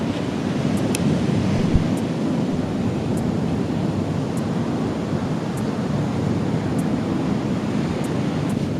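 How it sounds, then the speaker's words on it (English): Ocean waves at a beach, a steady broadband wash of surf with wind buffeting the microphone throughout, near and fairly loud, with faint regular ticks and no talk. "the waves just got really pretty"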